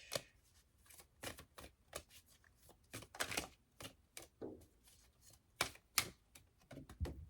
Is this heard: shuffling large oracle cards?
yes